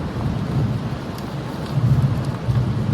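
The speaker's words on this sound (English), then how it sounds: "because of the storm and the lightning. It's really coming down right now," Heavy rain pouring down during a thunderstorm in north central Florida, a dense steady roar with low rumbling swells, loud and continuous.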